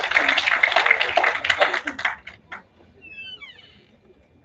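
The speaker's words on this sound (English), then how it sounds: "Let's have a huge round of applause for ma'am." A seminar audience gives a keynote speaker a dense round of applause that fades out after a couple of seconds. A few light bird chirps follow in the quiet.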